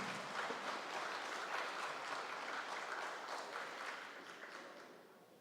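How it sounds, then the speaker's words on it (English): A live audience claps at a London Adam Day event in 2023. The sustained applause sounds soft and somewhat distant, then gradually fades away at the end. "they all deserve a round of applause"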